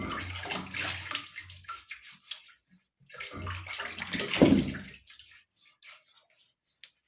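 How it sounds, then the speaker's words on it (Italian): Water running at a sink while a face is rinsed before shaving, splashing in irregular bursts at close range, with quiet gaps between splashes and no talk. "vado un attimo a sciacquarmi il viso"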